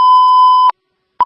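A Baltimore City fire dispatch radio sends a loud, steady electronic alert tone that holds for most of a second, cuts off, then starts again briefly, with no voices over it.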